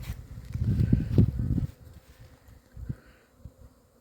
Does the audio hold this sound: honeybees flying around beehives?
yes